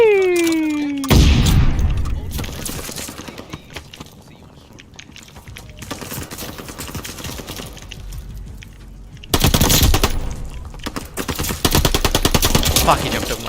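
Rapid automatic gunfire during a Call of Duty League Hardpoint match, OpTic Texas versus Seattle Surge, comes in loud dense bursts with pauses between them, while a voice talks briefly in the background.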